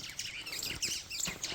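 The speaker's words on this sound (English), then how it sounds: "and the birds are singing." Birdsong on a farm at about 7 in the early morning, with dry ground around: several birds chirp and tweet in quick, overlapping phrases, fairly close and steady throughout, with no one speaking.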